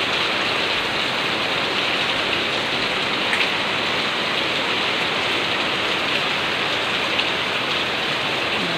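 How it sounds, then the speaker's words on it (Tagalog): Heavy typhoon rain pours down in Manila, a dense, steady roar of downpour that fills the whole stretch without letup, close and loud, with no voices. "Lakas ng ulan."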